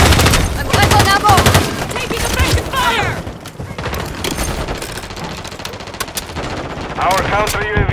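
Rapid automatic gunfire fills a Call of Duty match, with dense, loud bursts and scattered single shots layered over game effects, while voiced radio callouts speak over the action.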